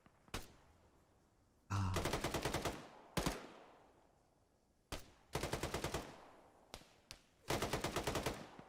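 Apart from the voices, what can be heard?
machine gun firing repeatedly in Arma 3 video game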